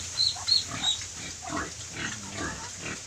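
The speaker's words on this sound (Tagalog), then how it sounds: "Ayan si Mami Pig, ayan" A native black sow on a rural farm gives a few soft grunts amid faint farmyard noise, with a couple of short high squeaks early on; no one speaks.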